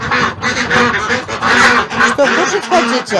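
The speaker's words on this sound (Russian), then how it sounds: "наши утята." Dense, continuous quacking from a crowd of young ducks, loud and close, with a voice speaking briefly over the flock.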